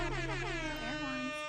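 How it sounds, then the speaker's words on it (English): A sustained air horn blast with stacked harmonics and a bending pitch, loud and continuous from start to finish. "Air horns, all the air horns."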